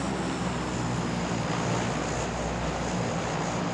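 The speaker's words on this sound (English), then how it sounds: "I don't like the sound of that plane." Propeller airplane droning overhead in the PUBG battle royale game, a steady broadband engine roar that holds at an even loudness with no speech over it.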